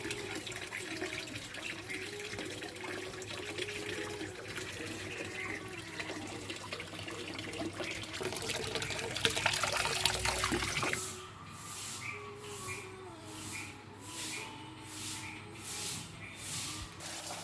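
Water gushes continuously from a broken well motor pump pipe, a loud steady rushing splash that briefly intensifies and then settles into a softer, pulsing flow.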